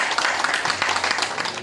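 An audience applauds the association president as she comes up to present, steady dense clapping throughout, with a faint voice underneath.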